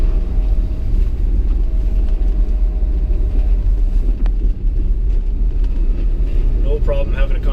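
A Daihatsu Hijet mini truck with upgrades and a snow plow driving along, its engine a low, steady, subdued rumble with someone talking over it throughout.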